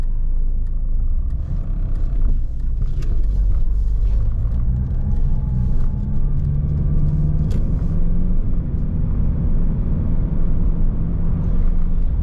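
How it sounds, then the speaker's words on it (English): A Rover 75 Tourer estate with the lower-powered diesel engine, Connoisseur trim, drives along, giving a steady low engine rumble and road noise that stays loud and unbroken the whole way, with no talking. "it's got the lower powered diesel engine"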